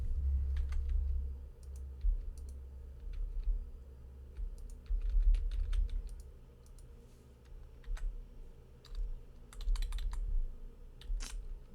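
Typing on a computer keyboard during online tournament gameplay, bursts of close, crisp keystrokes in irregular runs with pauses, over a low steady hum.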